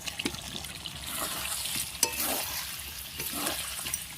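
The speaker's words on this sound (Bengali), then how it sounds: "এবারে আমি ভেজে রাখা আলুগুলি দিয়ে একটু সময় নাড়াচাড়া করে জল দিয়ে দেবো" Pre-fried potatoes are stirred into chicken frying in oil in a pan, giving a steady close sizzle broken by scraping stirs, with no talk.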